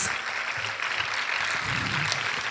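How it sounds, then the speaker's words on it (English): Steady, dense applause from an audience follows a dance performance with live musicians at an arangetram, with faint voices murmuring beneath the clapping. "please help me give another round of applause to Laya, Swara, and Deepak, and the musicians for delivering such a special piece."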